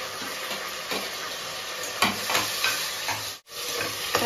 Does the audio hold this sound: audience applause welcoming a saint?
no